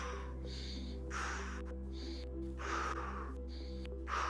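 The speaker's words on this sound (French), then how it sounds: "on passe sur une respiration lente et profonde" Slow, deep breaths are drawn in and let out in an unhurried rhythm, several soft airy breaths close to the microphone over a low steady hum.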